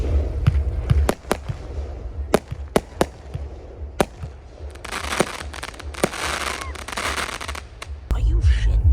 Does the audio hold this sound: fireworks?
yes